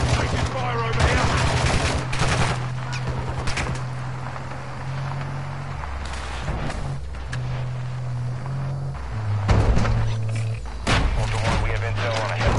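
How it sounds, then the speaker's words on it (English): Sustained game gunfire from an online console shooter crackles through most of the stretch, with rapid bursts and scattered shots over a steady low drone and some game voice chatter, loudest near the start and again toward the end. "Taking fire over here"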